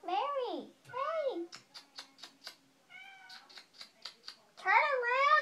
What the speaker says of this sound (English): It's my cat.